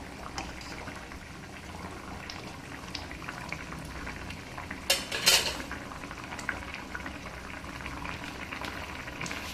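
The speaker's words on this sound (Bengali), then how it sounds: "আর একটু ফুটিয়ে আমি ঝোলটা নামিয়ে নেব" Hilsa fish curry with brinjal boils in a pot as a steady soft bubbling simmer, with a brief burst of louder clatter partway through and no voices.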